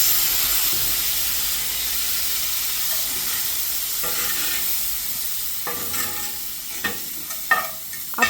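A steady loud sizzle hisses as asafoetida water hits a hot pan while making chickpea sundal, with a few clinks and stirring scrapes near the end.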